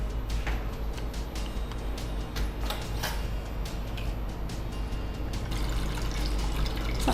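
Water pours steadily into a cooking pot for boiling potatoes in a home kitchen, a continuous close splashing and gushing stream that stays fairly loud throughout.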